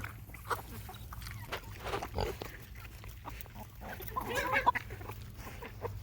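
A chicken clucks in short, scattered bursts close by among a litter of puppies, with soft rustling and faint shuffling movement around it.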